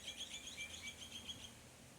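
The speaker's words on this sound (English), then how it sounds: "You can hear the birds chirping." Faint, high bird chirps repeat over a low steady background hum near a river in Bairnsdale, Australia, with no talking.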